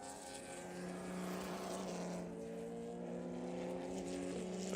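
Porsche Cup race car at Spring Mountain, its engine droning steadily at high revs with harmonic whine as it crests a rise and the wheels spin briefly; loud, continuous and close, with no talk.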